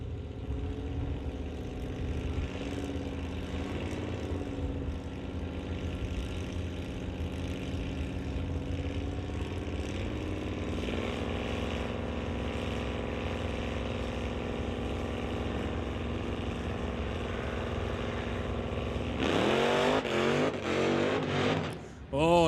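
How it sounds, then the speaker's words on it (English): A Drag Pack Dodge Challenger in a non-electronic drag race spins its tires off the hitch at launch, a loud steady engine roar with a rising burst of tire squeal and engine rasp near the end, under a race commentator's voice. "going up into the smoke is Terry Kramer as he spins the wheels off the hitch"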